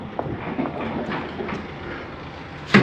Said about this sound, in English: It's just a slide mechanism saying it's in all the way.